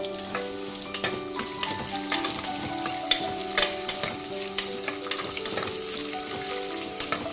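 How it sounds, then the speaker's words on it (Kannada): Onions with bay leaf fry in a hot pan for paneer and sweet corn pulao, a constant crackling sizzle broken by regular scraping strokes of a spoon stirring, close and clear with no talking. "ಈರುಳ್ಳಿ ಎಲ್ಲ ಹಾಕಿ ಫ್ರೈ ಮಾಡ್ಕೋಬೇಕು."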